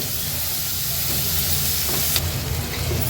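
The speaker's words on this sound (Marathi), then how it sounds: "लो फ्लेमवर हा कांदा आपल्याला व्यवस्थित शिजवून घ्यायचा आहे" Chopped onion frying in a pan on low flame for mutton sukka, giving a steady, close sizzle and hiss throughout with a faint clink near the end.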